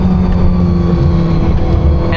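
A Czinger 21C hypercar's engine drones loud and steady while driving in track mode with all-wheel drive, a dense continuous roar holding a fairly even pitch throughout.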